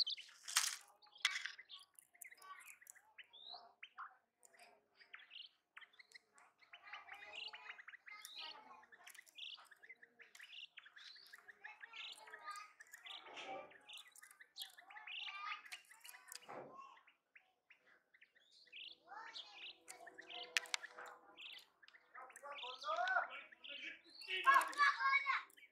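A hybrid quail calls in a series of short, bright chirps and trills, close by and fairly faint, with brief gaps between bursts and some low background murmur.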